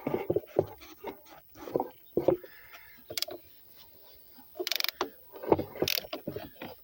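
A socket wrench ratchets in short bursts of clicking while a Peugeot 306 hydraulic steering hose is dismantled outdoors, with scattered metallic clanks and pauses between strokes.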